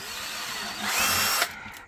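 A power drill whirs steadily, rising in pitch and strain as it bites in, then stops abruptly after about a second and a half.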